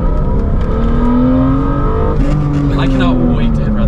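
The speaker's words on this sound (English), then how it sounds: "this thing revs to the moon." A BMW M3 engine revs hard and steady, its pitch climbing and holding high, loud and close throughout.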